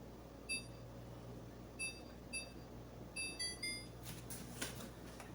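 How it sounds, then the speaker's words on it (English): A kitchen timer is set, giving a series of short, high electronic beeps in small clusters, faint and close, followed by quieter rustling handling noise with no talk. "And I'm going to set my timer for 25 minutes."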